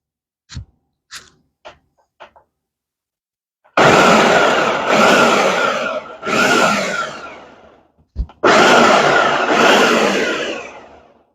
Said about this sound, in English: Just gonna stick them in here and pulse them.